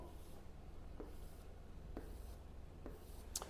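Pen strokes on paper or a board while working through a high school math problem, sounding as faint, scratchy marks spaced about a second apart over quiet room tone.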